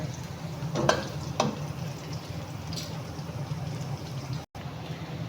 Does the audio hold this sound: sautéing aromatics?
yes